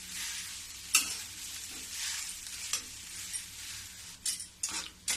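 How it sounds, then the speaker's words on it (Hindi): Khoa being roasted and stirred in an iron kadhai over a low gas flame, with a steady soft sizzle broken by scraping strokes and a few sharp clinks of the spatula against the metal. "अब इसको मैं थोड़ी देर भूंजूंगी।"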